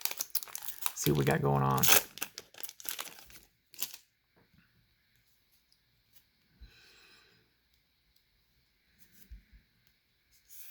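Foil wrappers of Magic: The Gathering Sparks booster packs crinkle and tear open close up, first under a speaking voice, then in a few faint scattered rustles.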